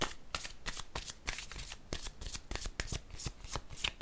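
A deck of cards is shuffled for a card reading, making a run of quick, crisp riffling bursts in a steady rhythm, close up with no talking.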